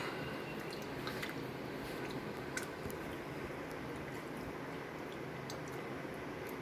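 Quiet, wet squishing as soaked pulp is squeezed by hand, with faint drips and small clicks over a steady hiss.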